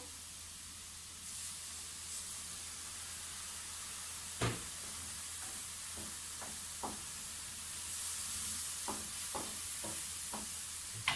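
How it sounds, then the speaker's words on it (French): Spices simmering with a little water and balsamic vinegar in a pan: a steady soft hiss and sizzle, broken by occasional light clicks and utensil taps. "Pour faire mijoter les épices. Et juste un peu d'eau."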